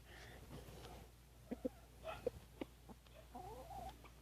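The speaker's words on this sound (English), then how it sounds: "Aw, the rooster's sharing." A rooster and hens feeding on scattered bread outdoors, giving soft short clucks and a few sharp calls at close range over quiet background hum.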